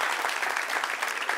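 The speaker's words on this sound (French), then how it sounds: "On peut l'applaudir." A short burst of audience applause at a live comedy talk show, dense and steady clapping from a crowd, fairly close, with no talking over it.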